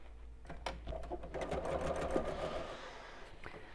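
A sewing machine runs in a fast, close mechanical chatter while top stitching a fabric tote bag, one short burst of stitching with no talking.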